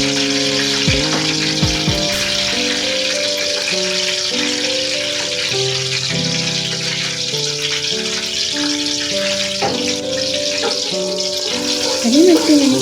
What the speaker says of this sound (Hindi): अब इनको भी मैं तकरीबन 5 से 6 सेकंड तक ऑयल में अच्छे से फ्राई कर लूँगी।